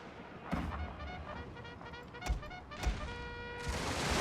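In a Prussia strategy game set in the Far East, two units open fire: several sharp gun reports and booming volleys ring out over a soft background, with rising clatter toward the end.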